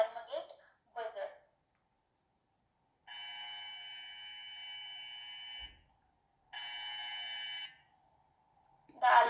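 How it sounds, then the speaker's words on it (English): Digital alarm clock buzzer in a PICSimLab microcontroller simulation, sounding as two steady electronic tones, one about two and a half seconds and one about a second, separated by silence, with brief speech at the start and end. "When it is 40, the alarm get buzzer."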